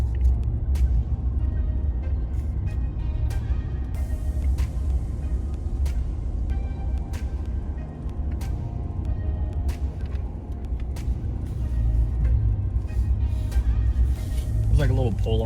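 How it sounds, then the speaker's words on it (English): A vehicle in two-wheel drive crawls along a sandy forest road in Ocala National Forest. A steady low engine rumble runs throughout, broken by repeated sharp knocks and rattles from the body and suspension. "here's the other really sandy spot. So I'm gonna try it in 2-wheel drive and we'll see what happens."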